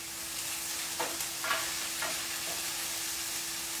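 About one and a half onions frying in a pan toward light browning, a soft steady sizzle with a few faint stirring scrapes, quiet and close, no talk.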